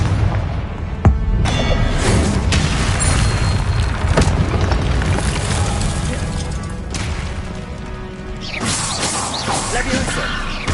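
Confringo fire spell explosions in the video game Hogwarts Legacy, loud booming blasts and crashing impacts layered over continuous game sound with brief bursts and rumbling.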